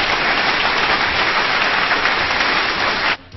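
A studio audience claps for a show's producer, a dense, even patter of applause at a constant level that cuts off abruptly near the end.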